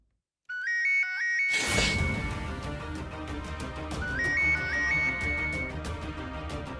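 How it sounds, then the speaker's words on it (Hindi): A phone ringtone plays a repeating electronic melody, loud and close, over a busy musical background that swells in partway through. "Sir phone."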